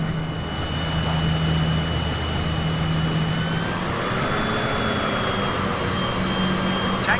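Airliner jet engines idle and rumble steadily in Microsoft Flight Simulator 2020 as the plane taxis to the gate at Perpignan, a continuous loud drone with faint whining tones and no pauses.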